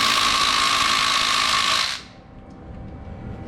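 Power drill working on E12 star bolts holding a bracket on a Mini Cooper S engine: a loud, close, high-pitched whine of the motor for about two seconds, then it cuts off to a low rumble.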